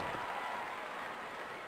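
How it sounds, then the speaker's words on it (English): Arena crowd in the 1998 wrestling game WWF War Zone, a steady diffuse roar of cheering and applause, moderately faint and unbroken. "The capacity crowd comes alive."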